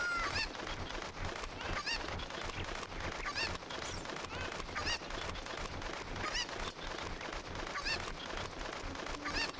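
Cuckoo chickens in The Legend of Zelda: Ocarina of Time squawk and honk in a steady stream of repeated calls, loud and busy, filling the whole stretch with no talking.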